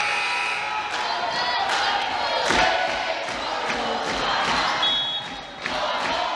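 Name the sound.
Cardinal fans' cheer at a volleyball game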